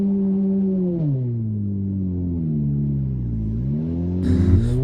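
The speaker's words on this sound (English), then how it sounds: "you can just hear each lap he goes around, the motor gets a little less happy sounding" A small four-cylinder car engine, from a 2004 Saturn Ion or Scion in a 50-lap enduro race, drones loudly and steadily close up, its pitch sagging and recovering as it strains, with a brief noisy burst at the end.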